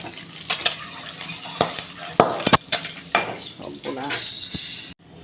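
Chickpeas and peanuts being stirred as they fry in a pan, with repeated clinks and scrapes of a utensil against the metal over a soft background sizzle, close and fairly loud.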